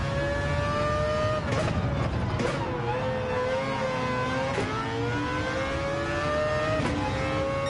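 A GTR race car in a racing video game drifts through a tunnel, its engine revving loudly and steadily with rising and falling pitch, sharp bursts at a few points, and no voices over it.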